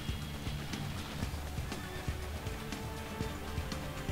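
A horse neighs and its hooves clip-clop steadily in Assassin's Creed II, mixed with dense game ambience and a crowd bustle, loud and continuous throughout.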